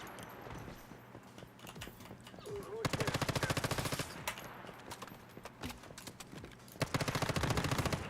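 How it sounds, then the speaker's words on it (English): Rapid bursts of weapon fire in Once Human, with distinct rattling volleys of evenly spaced shots repeating several times amid background game noise. "A grenade launcher, really?"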